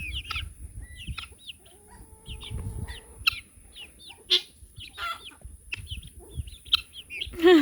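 Guinea fowl calling on a farm, a series of sharp, scattered, squawking cries at varying distances, some loud and close, over low background rumble and a faint steady hum.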